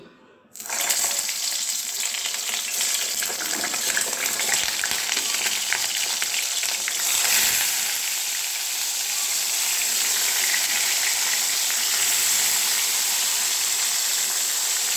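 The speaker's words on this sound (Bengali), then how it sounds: "বেগুনগুলো ঢাকা দিয়ে দিই। হ্যাঁ, ভাজা হোক।" Eggplant pieces fry in hot oil in a pan, a loud, steady sizzling hiss that runs without a break from just after the start to the end, with no talking.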